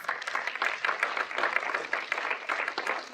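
An audience at a community discussion on the state of Black Annapolis gives a round of applause, a moderate, steady patter of many hands clapping at some distance.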